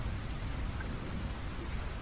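Storm rain effect for a narrated Bengali horror story: a steady, full downpour hiss with a faint low rumble beneath, continuous and even, with no voices.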